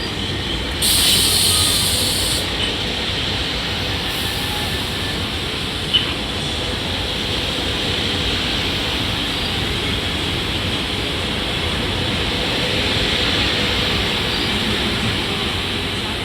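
A SEPTA commuter train pulls away from Marcus Hook station, making a steady, broad rumble and roar throughout with a brief hissing burst near the start and one sharp clank midway. No voices are heard.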